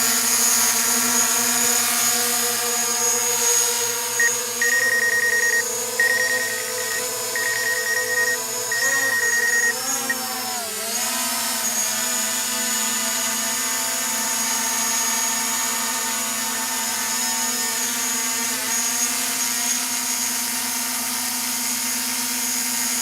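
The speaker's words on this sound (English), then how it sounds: "Trying to move the camera and the drone at the same time here." A DJI Mavic Pro drone with a modded battery flies close by, giving a continuous high buzzing whine with layered tones that waver and dip in pitch as it manoeuvres, loud and steady throughout.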